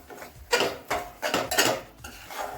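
Sukhdi being stirred in a pan, melted jaggery mixture scraped by a utensil in several distinct metallic scrapes and clinks at an uneven rhythm, close and fairly loud with no talking.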